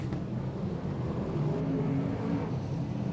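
Several V8 dirt modified race car engines roar together in a steady, droning blur at Archerfield Speedway, moderately distant, with overlapping engine tones and no break.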